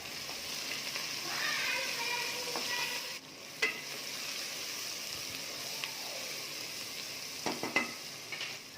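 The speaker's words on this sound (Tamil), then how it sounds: "இப்போ இதில் நான் ஒரு 4 தக்காளி பழம் சேர்த்துக்கிறேன். இதையும் சேர்த்து நல்லா வதக்கிக்கலாம்." Tomatoes stirred and sautéed with onions in a pan while cooking a mutton biryani, a steady soft sizzle with occasional scraping clicks and spatula taps, close by and moderately quiet with no talk.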